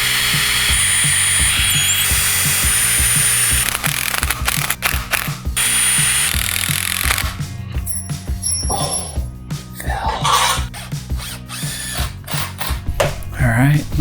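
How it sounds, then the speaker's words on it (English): A power drill whirs in short bursts, pre-drilling holes in wood, stopping and starting with clicking mechanical sounds between runs, close by. "I am going to pre-drill, that much I do know."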